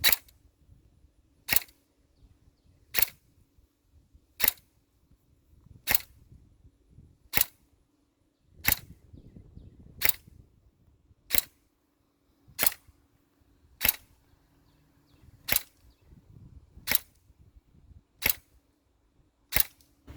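An S&T PPSh-41 airsoft submachine gun fires .2 BBs over a chronograph, giving about fourteen sharp single cracks at a steady interval of roughly 1.5 seconds, with faint rustling and hum between shots.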